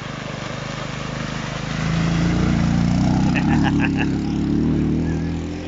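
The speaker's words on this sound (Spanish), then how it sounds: "Ahí sí, la moto, la moto." Motorcycle engine in the countryside at San Marcos Sierra, Córdoba, a close, steady low drone that rises as the throttle opens, continuous throughout.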